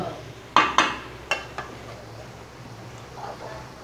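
A spoon knocks and scrapes against a small, overfilled karahi while food fries, giving a few sharp metallic clinks early on and then quieter stirring.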